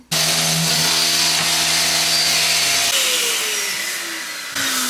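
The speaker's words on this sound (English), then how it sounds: "So I need to sand them out as much as I can without going through the veneer." Power sander working the veneer of an Art Deco vanity during restoration, a steady loud motor drone with a falling pitch partway through, close and continuous with no talk.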